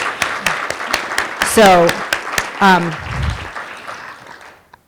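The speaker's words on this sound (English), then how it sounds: "So let's a round of applause, first of all." Scattered audience clapping rings out at a Women of Walser Q4 company meeting. A speaker's voice comes in over the clapping as it fades.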